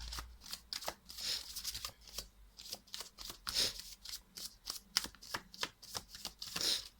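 Tarot cards being shuffled by hand, a quick series of crisp riffling flutters and soft slaps in an uneven rhythm, close and fairly quiet with no talking.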